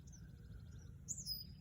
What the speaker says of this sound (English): Birds everywhere.